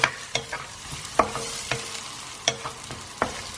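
Onions sautéing in hot oil for mince cutlets make a continuous close sizzle, with a regular series of sharp spoon clanks against the pan every half second or so, and no one speaking.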